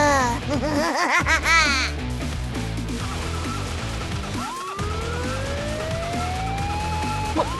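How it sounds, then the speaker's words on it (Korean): An intruder alarm siren wails in the video game Trickcal Revive, with rising and falling sweeps over a busy backdrop of music and effects, then a long upward glide. "침입경보 사이렌?"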